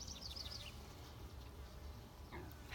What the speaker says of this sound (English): They're busy bees.